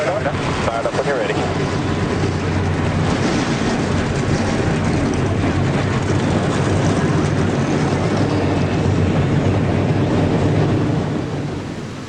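A dense, loud roar of massed stock car engines fills the scene in NASCAR Racing 2003 before the Bank of America 500, a steady rumble that tapers slightly at the end.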